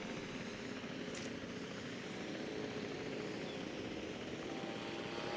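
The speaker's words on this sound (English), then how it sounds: "Oh, the helicopter's coming in." Helicopter in the video game Jurassic World Evolution 2 approaching, a steady droning rotor and engine wash at low level throughout with no speech over it.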